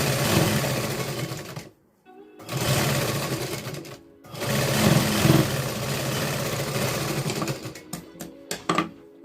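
A sewing machine stitches a katori blouse seam in long steady whirring runs, loud and close, with brief stops between runs and a few clicks at the end.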